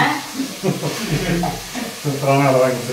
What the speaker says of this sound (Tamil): இப்போ வந்து இஞ்சி பூண்டு வந்து நல்லா வதங்கிடுச்சு